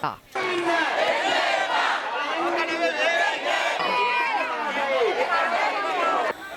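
A protest crowd in Sri Lanka marches to the Kataragama bus stand against the government, loud voices chanting and shouting together almost continuously, close and crowded.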